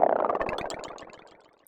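A psytrance squelch synth patch built in Polygrid plays alone as one short, bright, rapidly pulsing tone that fades away over under two seconds.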